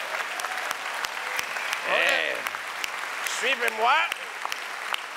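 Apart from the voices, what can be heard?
audience applause for people coming on stage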